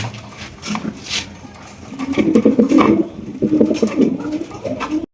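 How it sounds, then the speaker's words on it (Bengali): Blue bar pigeons coo in low, throaty, repeated bursts close by, with fainter rustling and background noise around them. "এখানে কিন্তু রয়েছে আরো এক জোড়া ব্লু বার"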